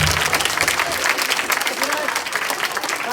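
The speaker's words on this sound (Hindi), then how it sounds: "उन महान टीचर्स के लिए भी जोरदार ताली बजा दीजिए।" An audience at a school annual day function breaks into loud, dense applause for the teachers, continuous close clapping throughout with a voice briefly audible at the start.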